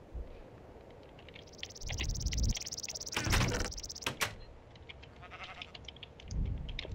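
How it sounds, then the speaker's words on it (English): A Minecraft sheep in the Tekkit modpack bleats a few times close by, short nasal calls mixed with clicking and rattling game sounds, no voices present. "He's a cute sheep."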